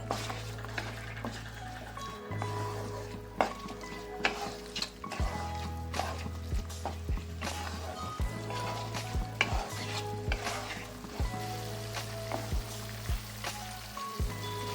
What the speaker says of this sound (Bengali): এবার দিয়ে দেব মটরশুঁটি এবার ভালো করে কষিয়ে নেব